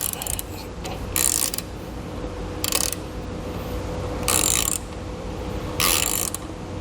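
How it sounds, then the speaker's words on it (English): Ratchet tightening lug nuts on a Demco trailer stake pocket spare tire mount, sounding as several close bursts of rapid clicking separated by short pauses. "Come back with the ratchet,"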